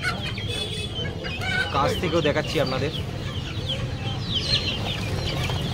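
Chickens clucking at a poultry market selling pairs of desi and broiler birds, busy overlapping clucks and squawks close by, with someone talking over the birds throughout.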